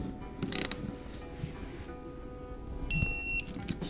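A torque wrench tightens Subaru STi engine connecting rod bolts with a few soft ratcheting clicks, followed by a short high electronic beep as it reaches torque.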